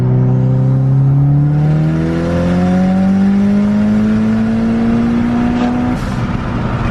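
A Mitsubishi Evo 8 with a big turbo makes a third-gear pull, its engine note climbing steadily and loudly for about six seconds before easing off, close, steady and alone.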